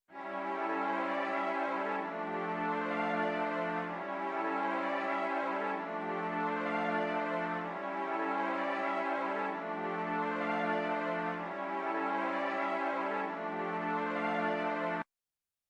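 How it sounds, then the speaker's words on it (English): East West Symphonic Orchestra strings play a simple, repeating chord progression in a dark trap beat made in FL Studio, the sustained chords swelling and changing every two seconds or so, with no talking. "And the strings sound like this."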